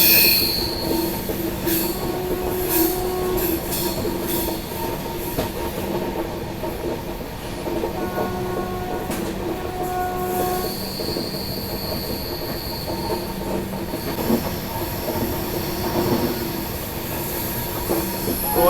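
Train wheels on the Goa Express squeal and screech as it rounds curves on a ghat section during the monsoon, with sustained metallic whining tones over a constant rolling rumble and occasional clacks from the rails.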